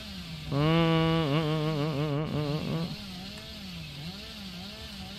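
Billy's chainsaw from the Dead by Daylight video game revs loudly and steadily with a wavering pitch, then drops to a lower sputtering idle that rises and falls in slow cycles.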